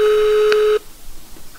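A single telephone line tone heard after dialing a number, a steady loud beep that cuts off abruptly, followed by faint line noise.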